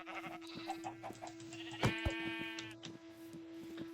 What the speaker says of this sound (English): let's kill some sheep.